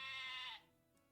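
A small white goat in the game Twisted Wonderland gives a single short, strained bleat that ends abruptly, close and clear with nothing else heard.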